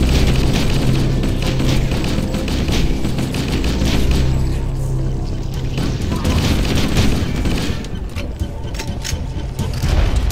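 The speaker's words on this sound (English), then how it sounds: "this is one of those moments for the assault rifle" Sustained automatic assault rifle fire in Halo: Combat Evolved during a Legendary run of the Guilty Spark level, dense booming bursts almost continuous over the whole stretch, loud and close with game effects mixed in.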